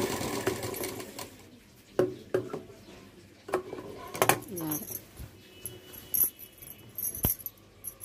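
A domestic sewing machine stitches a size 36 blouse in short, uneven bursts, its needle ticking and whirring close by, stopping and starting as the fabric is turned, with faint clinks between runs.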